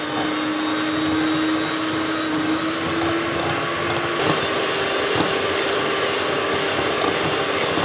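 An electric mixer beats sugar and oil for cake rusk batter, a steady close motor whine and whir holding level throughout with no talk.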